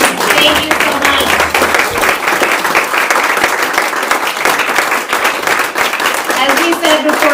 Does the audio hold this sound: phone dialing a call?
no